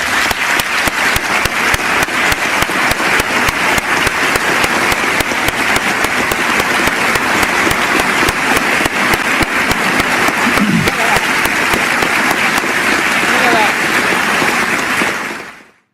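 Sustained loud applause fills a legislative chamber after a presidential speech, dense continuous clapping from a large crowd holding steady for about fifteen seconds before cutting off abruptly.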